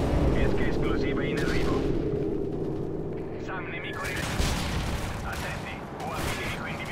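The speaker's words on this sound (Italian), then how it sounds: "Osservate con attenzione come il cecchino, senza applicare lo zoom, riesce comunque a sparare tranquillamente." Rifle shots from a sniper in the Call of Duty Modern Warfare 3 deathmatch video game ring out among booming in-game gunfire and explosions. Someone talks over the dense, noisy action.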